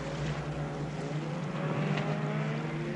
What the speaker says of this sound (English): The noise of the Zodiac frightens the baby.